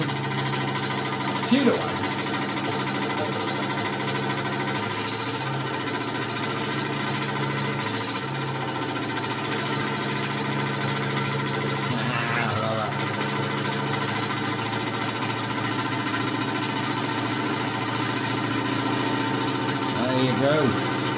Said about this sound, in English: The old Lister twin diesel.